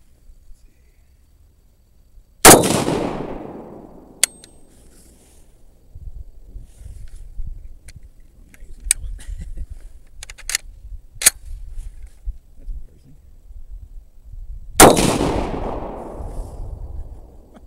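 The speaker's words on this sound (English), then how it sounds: "That's my first two shots out of this thing." Two sharp, loud rifle shots from a Norinco M305 (M14S) fired outdoors, about twelve seconds apart, each with a ringing echo that fades, and faint clicks and handling noises between them.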